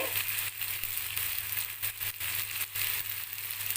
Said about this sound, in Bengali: পেঁয়াজটা হালকা ফ্রাই হবে